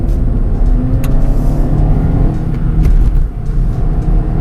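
A 2018 Suzuki Swift Sport's small engine revs hard through curves, a loud, steady engine drone with rising and falling pitch heard from inside the car, no talking.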